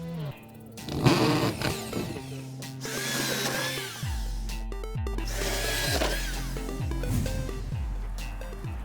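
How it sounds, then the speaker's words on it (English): A power drill bores a hole through plywood for a hurricane shutter, its motor whining in several close bursts, each pitch sagging as the bit bites into the wood. "So let's drill."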